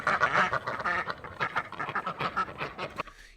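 A group of ducks quacks continuously and loudly up close, overlapping calls in a busy chatter that cuts off abruptly near the end.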